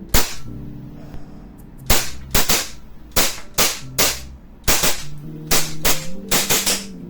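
WE T-Rex Hi-Capa gas blowback airsoft pistol firing, a string of about a dozen sharp, loud cracks, first spaced out and then in quicker bursts near the end, with no talk.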